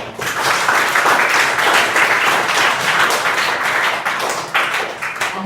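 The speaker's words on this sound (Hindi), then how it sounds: "आप सभी अच्छे बच्चे हो, ताली बजाओ।" Schoolchildren at a public school in Azamgarh, Uttar Pradesh clap together in a sustained burst of applause, dense and fairly loud, tapering off near the end.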